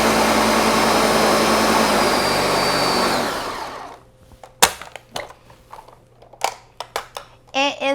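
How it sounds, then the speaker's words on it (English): A kitchen blender whirs loudly and steadily as it purees a lasagna filling mixture, then stops abruptly, followed by a voice talking and some clattering. "we're gonna blend it in the blender so it's nice and smooth to add to our lasagna"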